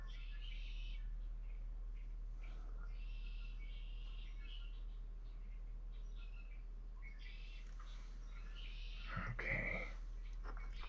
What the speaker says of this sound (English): The birds are just a singing outside.